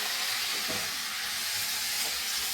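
Washed raw chicken pieces hit hot masala in a pan for a creamy chicken stew, producing a steady loud sizzle and hiss with faint stirring, no voices.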